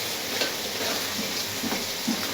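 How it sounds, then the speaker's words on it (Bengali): Small potatoes frying in a pan, a steady close sizzle with faint stirring scrapes throughout, no voices. "আর ওই পাশে ছোট আলু ভাজি করতে দিয়েছি, দিলাম।"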